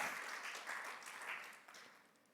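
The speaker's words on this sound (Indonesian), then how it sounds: "Berikan tepuk tangan." Congregation applauding during a Sunday worship service in a church, a steady wash of clapping at moderate level that fades toward the end, with no talk over it.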